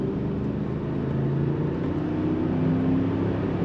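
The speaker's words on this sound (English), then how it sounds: "You can hear that engine revving just enough to enjoy it." Engine of a 1998 Cadillac Eldorado ETC humming steadily from inside the cabin while driving, a smooth, moderate drone with a slight rise in pitch and no voices.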